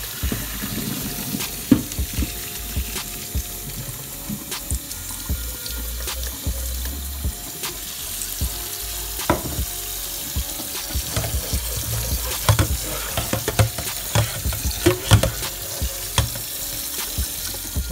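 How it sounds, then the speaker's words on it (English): Cold tap water runs steadily into a sink over strained pasta noodles, a continuous close hiss and splash with occasional clunks and drips, with no talking. "I'm running cold water because it helps cool down the noodles"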